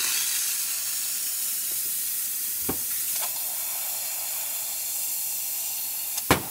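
Steam wand of a La Pavoni Piccola 3165 espresso machine hissing in a steady, fairly loud rush throughout, with a couple of faint clicks and a short knock near the end.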